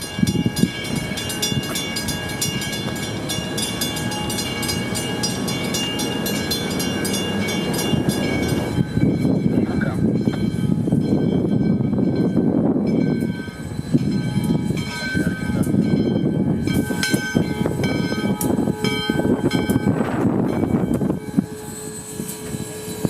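Steam locomotive 148 works near a crowd of rail fans, a steady loud rumbling roar with hissing and a faint sustained whistle tone running throughout.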